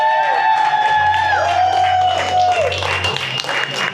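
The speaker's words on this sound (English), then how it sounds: "we should give them a warm round of applause for such great hospitality" An audience at a Caribbean tiki bar, Coco Mama, claps and cheers warmly for the staff and owners, the steady applause mixed with whoops and overlapping voices close by.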